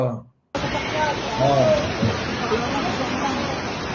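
Typhoon floodwater rushes in a loud, continuous roar that sets in abruptly after a brief silence, with a voice speaking faintly underneath.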